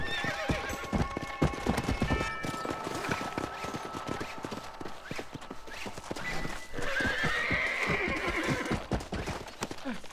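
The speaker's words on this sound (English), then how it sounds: "Sup, wild horse." Horse hooves clip-clop steadily in Red Dead Redemption, joined around the middle by a loud, drawn-out whinny from a wild horse, with the hoofbeats continuing close and prominent throughout.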